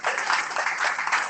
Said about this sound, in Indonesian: Yang setuju berikan tepuk tangan untuk Tuhan.